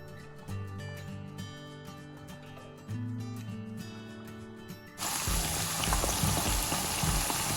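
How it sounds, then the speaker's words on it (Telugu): Cornflour-coated paneer pieces for chilli paneer drop into hot safflower oil. After a few seconds of background music, a loud, dense sizzle suddenly takes over and holds steady. "ఇప్పుడు ఇందులో కార్న్ఫ్లవర్ కోటెడ్ పన్నీర్ పీసెస్ వేసేసి కొంచెం గోల్డెన్ బ్రౌన్ అయ్యేంత వరకు ఫ్రై చేసుకుందాం"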